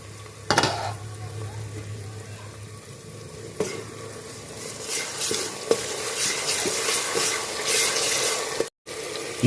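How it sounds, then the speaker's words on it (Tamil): Chopped tomato and onion sizzle as they sauté in a pan for a mutton gravy, with a soft continuous frying hiss and a few sharp stirring clinks, no talking. "தக்காளி வெங்காயம்லாம் கொஞ்சம் நல்லா வதங்கட்டும்."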